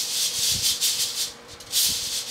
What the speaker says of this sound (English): Kind of toss it around, blow off that excess chaff,